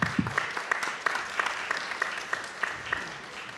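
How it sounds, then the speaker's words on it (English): An audience at a minute pitch competition gives a round of applause, a continuous wash of many hands with a faint rhythmic beat of stronger claps, moderately distant and steady throughout. "Can we give a round of applause for our internet audience?"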